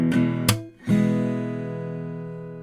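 Guitar strumming with a clap taking the place of the third downstroke: sharp strummed hits, a brief dip, then a sustained ringing chord fading out, played alone.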